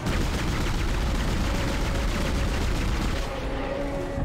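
Rapid gunfire in Dead Space as a creature's glowing yellow weak spots, including some in its rib cage, are shot, a loud dense burst of repeated shots that continues steadily before easing off near the end.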